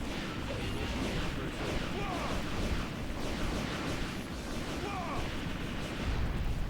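In the Sonic Heroes video game, cannon fire thuds in repeated booming blasts at a fairly low level. The blasts sit among other game noise and run steadily through the moment.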